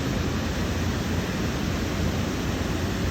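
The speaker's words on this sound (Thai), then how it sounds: "นี่นะน้ำตก บ้านตะโงยอำเภอตะโงย" A waterfall at Ban Ta Ngoi in Ta Ngoi district, heard as a steady, dense rush of falling water with no breaks, filling the scene evenly throughout.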